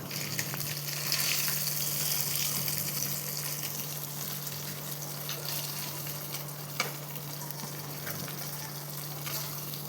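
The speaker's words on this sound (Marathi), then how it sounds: "मासे पण आपले फ्राय करून तयार झाले आहेत" Fish frying in a pan for a home meal, a steady broadband sizzle and crackle of hot oil running continuously with occasional small pops and clinks, fairly close and alone without voices.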